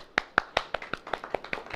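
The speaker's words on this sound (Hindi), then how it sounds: "ताली बजाओ" Hands clap in a quick, steady rhythm at a church sermon, about ten sharp, evenly spaced claps close by, easing slightly in loudness toward the end.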